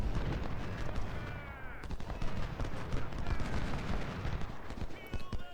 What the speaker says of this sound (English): So he's getting some volleys off here